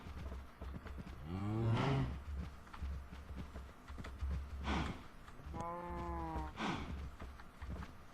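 Minecraft-style video game cows being bred produce several drawn-out moos spaced across the stretch, over a soft background of footsteps and low rumbling.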